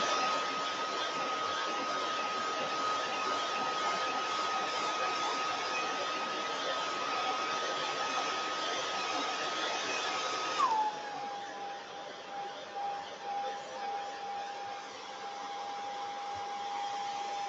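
A hair dryer blows on a snow globe craft in a steady close whirring whine, its pitch dropping abruptly partway through as the setting changes, then continuing evenly.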